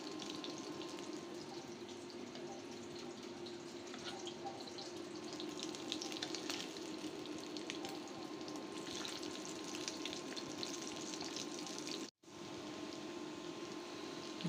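Onions fry in the leftover oil from frying fish in a home kitchen, giving a steady, quiet sizzle throughout with faint clinks and a brief break near the end.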